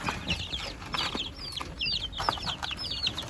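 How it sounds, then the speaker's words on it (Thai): Young chicks less than a month old, of a hardy egg-laying breed, peep and cluck in a busy, steady chorus as they eat feed nearby. "กินอาหารของลูกไก่ของเราครับ"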